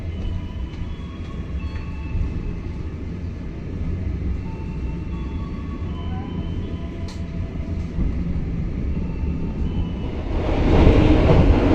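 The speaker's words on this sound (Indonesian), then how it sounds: "Kereta api Bengawan diberangkatkan dari stasiun Purwosari tepat pada pukul 22:45." The Bengawan train departs Purwosari station, a low continuous rolling rumble heard from inside, building into a louder, brighter rush of noise toward the end.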